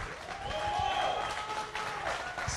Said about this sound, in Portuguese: Se for para ele, você pode aplaudir, irmão.